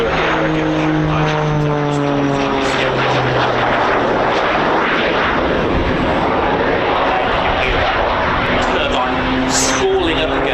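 A Pitts Special aerobatic biplane at an airshow climbs with its propeller engine droning and spooling up, loud and steady with shifting pitch, while a commentator talks over it.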